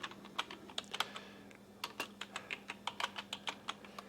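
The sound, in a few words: typing on a computer keyboard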